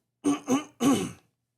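A person clears their throat in three short, harsh bursts, the last one longer and rougher, close up with silence after.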